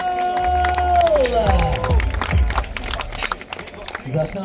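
A crowd at a skateboarding contest roars and claps loudly, a dense wash of cheering with whistles and a falling tone early on, while a voice talks over it.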